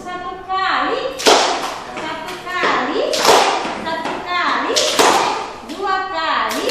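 Children clap once in unison, sharp claps recurring at intervals amid a voice and children speaking in a classroom.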